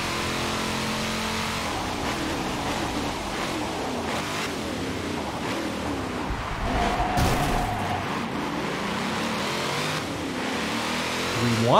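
Engine roar of a car in a video game climbs and drops through gear changes, loud and unbroken with a faint higher whine, no voices present.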